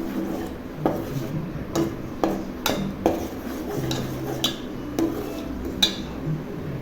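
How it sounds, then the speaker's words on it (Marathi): A spoon stirs tomato puree into fried masala paste in a pan for chole, with scattered light clinks and scrapes against the metal over a low sizzle, close and fairly quiet. "वाटण चांगलं परतून झाल्यावर त्यात टोमॅटोची प्युरी घालायची आहे। चांगलं मिक्स करायचं आहे।"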